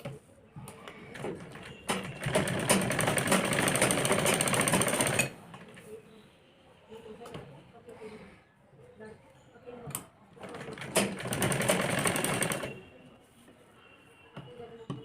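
A sewing machine stitches along the edges of fabric for a frilled top, running in two long loud bursts with quieter handling sounds and pauses between them.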